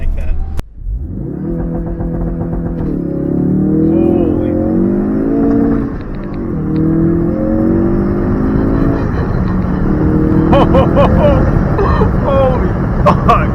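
A Ford Focus RS engine revs and accelerates loudly through several gear changes, a steady rising roar with a voice talking over it near the end.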